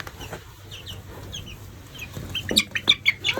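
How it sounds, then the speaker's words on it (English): Small chicks on a farm chirp and cluck in quick high peeps that grow louder and more frequent toward the end, fairly close with soft background noise. "These are these little chicks over here."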